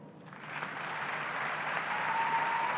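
Audience applause at a summit session, a steady broadband wash of clapping that starts moderately and holds evenly loud across the whole stretch, with no voices over it.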